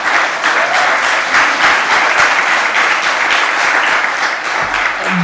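Conference audience applauding loudly and steadily, a dense wash of many hands clapping together without any talk over it.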